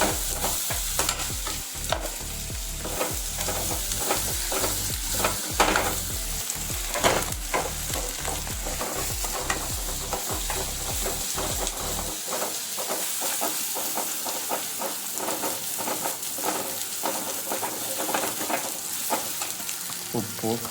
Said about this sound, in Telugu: అల్లం వెల్లుల్లి పేస్ట్ కొంచెం వేసుకొని పచ్చివాసన పోయేంత వరకు వేపుకుంటూ ఉండాలి.